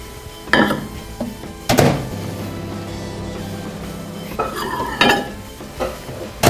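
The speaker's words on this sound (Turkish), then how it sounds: "Şimdi çikolatam ve kremam bir araya geldi. Şöyle güzelce karıştırıyorum." Spoon clinks and scrapes against a bowl in bursts as thick melted chocolate and cream are stirred together, with a steady low hum underneath and no talking.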